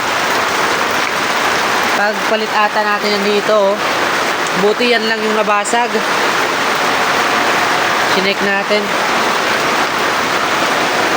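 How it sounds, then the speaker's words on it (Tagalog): Steady broadband hiss of heavy rain flooding a backyard fills the whole clip, heavy and continuous, with someone talking intermittently in Filipino over it. "Sobrang lakas ng ulan."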